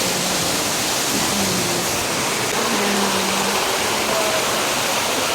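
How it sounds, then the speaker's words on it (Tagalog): A small river flows through a forest in Silang, Cavite, giving a steady, loud broadband rush of running water throughout, with a faint voice briefly under the noise. "Pero buti na hindi siya ayun, may maliit na ilog ulit."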